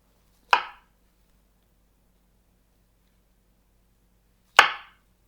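Two sharp, isolated knife chops about four seconds apart as button mushrooms are quartered on a cutting board, each a crisp close thud with quick decay and near silence between.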